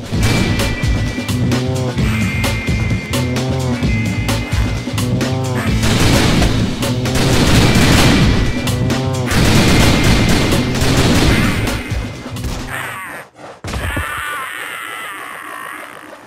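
Loud, sustained gunfire in the game The Typing of the Dead: Overkill, rapid shots and impacts piling up under a dense musical score, ending in a sharp crash and then a quieter tone.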